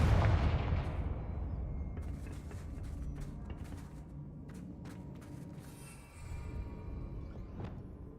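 Confringo spell blasts in Hogwarts Legacy: a heavy booming explosion up front that decays into rumbling debris, followed by scattered sharp crackles and a second softer burst later, with no speech.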